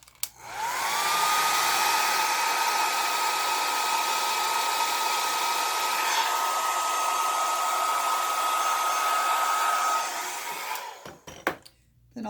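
Hair dryer blowing over an alcohol ink painting: a steady, loud airy roar with a whining tone runs for about ten seconds, then cuts off, followed by faint handling noises.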